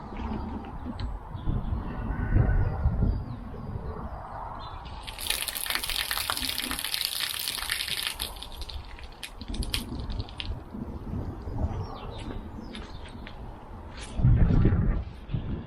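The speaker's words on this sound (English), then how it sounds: "But I'm going to test it anyway with some water." Water poured onto a sloping allotment shed roof to test its guttering, giving a broad splashing gush that builds midway and runs for several seconds, with rustling and outdoor background around it.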